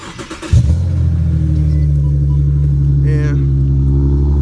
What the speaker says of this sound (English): But now I'm going to start up this mug.